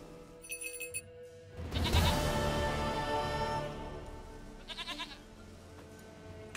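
A goat bleats loudly and close by in the Witcher 3 video game, one long wavering cry followed by a shorter bleat, with brief game sounds around it.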